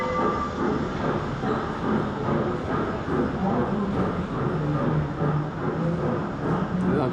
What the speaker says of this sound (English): Now if you're wondering what that sound is, they do actually still run a train through here.